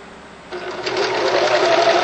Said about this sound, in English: But that's about where you want to have it sewn. Use a fairly short stitch